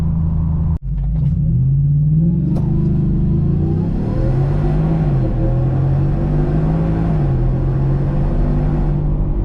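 A supercharged 2025 Ford F-150 pickup launches hard from a stop, its engine rumbling and climbing through rising revs with brief dips at shifts, loud and close throughout.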